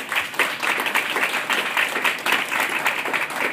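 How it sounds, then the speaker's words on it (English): An audience applauds guests at a talk show, a dense and steady patter of many hands clapping at fairly close range throughout. "Let's give a round of applause for all of our guests today"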